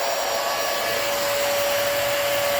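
A hair dryer blows hot air in a steady, loud whoosh with a thin motor whine riding on top, unchanging for the whole stretch, close to the microphone and with no talking.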